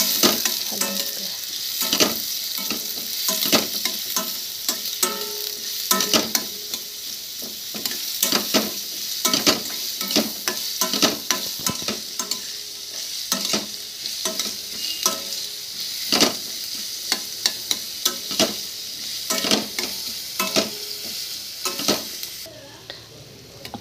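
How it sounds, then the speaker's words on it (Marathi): Onion fries in a pan while being stirred, a continuous sizzle cut through by frequent scraping and clinking strokes of a spoon, close and steady throughout. "कांदा चांगला"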